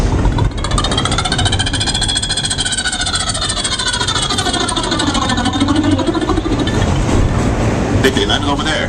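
A voice imitates helicopters with a sustained, loud, rapidly pulsing throbbing drone whose pitch sweeps slowly up and down for several seconds, set against subway background noise.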